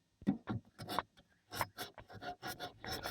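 Creosote being scraped from inside a chimney flue, heard as quiet, close, irregular rasping strokes with brief pauses, alone and without talk.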